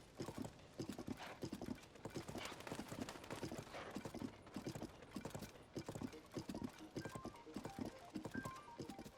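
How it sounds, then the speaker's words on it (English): Steady, rapid clip-clop of horse hooves as a rider travels along a road in Zelda: Tears of the Kingdom. Dense, rhythmic and continuous, loud and close throughout, with no speech. "I'll just let the horse guide the way."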